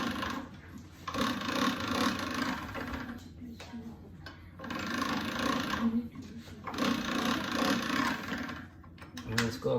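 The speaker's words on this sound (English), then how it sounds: "Every time we run it through the pasta machine," A hand-cranked pasta machine rolls dry black squid ink pasta dough in two long mechanical whirring passes separated by short pauses, with a voice talking over the cranking.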